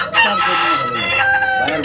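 Roosters crow and hens cluck on a poultry farm, several birds calling over one another in a dense, continuous chorus with no pause.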